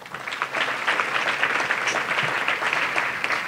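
A luncheon audience claps in a round of applause for past board chairs. The applause is dense and steady, filling the room for the whole stretch with no pause.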